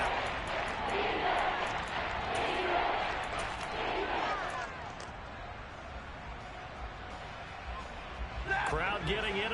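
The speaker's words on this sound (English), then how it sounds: "Crowd getting in it a bit already." Stadium crowd noise from the American football video game Madden 23 swells and murmurs behind continuous play-by-play commentary, rising in excited bursts before settling into a steady background roar.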